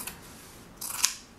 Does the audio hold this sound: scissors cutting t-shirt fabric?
yes